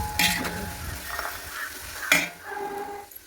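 Onions sautéing in oil with cinnamon, clove and green chilli over a wood-fired stove: a soft continuous sizzle with spoon stirring and metal pot clinks, close by, rising and falling in short strokes.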